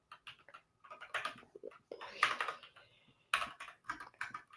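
Typing on a computer keyboard: close, irregular bursts of quick keystroke clicks separated by short pauses, with no voices.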